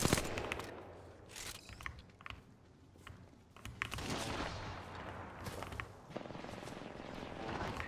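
Rapid bursts of charge rifle fire in the shooter Valorant, loud cracks clustered in uneven volleys with short gaps, mixed with footsteps and game noise.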